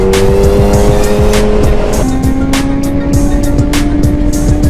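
A 2012 Kawasaki ZX-10R motorcycle being ridden fast, its loud, close engine holding a high whining pitch that drops at a single gear change midway, with a constant rough rumble underneath.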